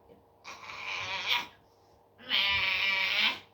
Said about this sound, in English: Now he meows. He meows loud.